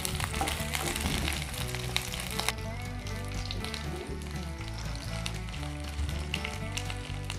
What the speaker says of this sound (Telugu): మిగిలిన ఆయిల్లోనే ఉల్లిపాయలు కూడా వేయించుకుందాం